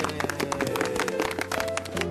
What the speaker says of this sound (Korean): 지민의 가족을 위해서도 여러분 박수 한번 해주십시오